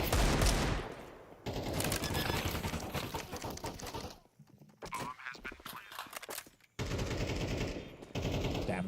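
Rifle fire in Counter-Strike during a professional tournament match, with rapid automatic bursts at close range broken by short pauses and mixed with other game sounds.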